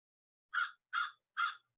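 A crow caws three times in an even rhythm, each call harsh and loud, close by against silence.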